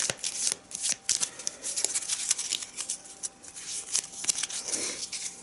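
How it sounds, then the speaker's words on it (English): Arkham Horror playing cards shuffled by hand during board game setup, a dense run of crisp riffling flutters and soft slaps, close and steady for about five seconds with no talking. "Give it a shuffle."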